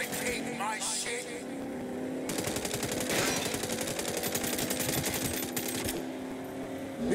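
Rapid bursts of automatic gunfire from a shootout in the Saints Row video game, dense rattling volleys running for several seconds beneath engine hum and shouted talk.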